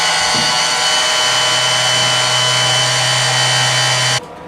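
A power saw cuts through a wooden baseboard during a home repair, a loud steady broadband whine running for about four seconds before stopping abruptly, with no talking.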